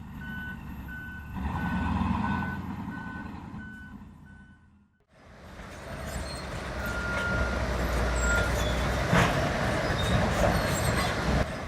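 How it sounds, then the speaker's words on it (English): A Komatsu 830 haul truck towing a Komatsu 930 dump truck, with a repeating reversing beep over a low engine rumble, then a louder, denser roar of heavy machinery with metallic squeals. "the Towhaul Komatsu 830 uses its head to pull the Komatsu"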